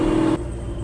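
Procharged 1000 hp Chevrolet Camaro engine, a loud, brief low rumble that drops in level partway through to a steadier idle-like drone.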